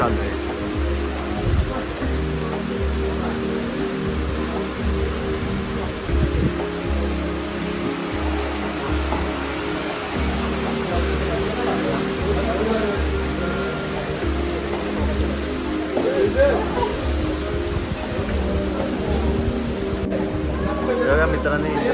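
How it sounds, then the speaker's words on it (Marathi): Rain keeps falling over a Konkan cricket ground in the evening, a continuous even wash of hiss with a soft low rumble, steady and unbroken throughout. "पाऊस चालू आहे."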